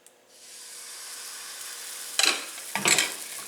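Egg wrap batter hits a hot pan greased with non-stick spray, giving a steady low sizzle that flares into two louder bursts of frying hiss and scraping.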